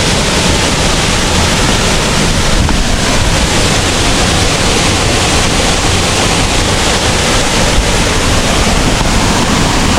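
Steady, broadband rush of the waterfall at Hulugan Falls, a dense continuous roar of falling water heard close and loud for the whole stretch, with no voices over it.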